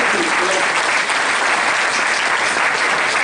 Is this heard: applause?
yes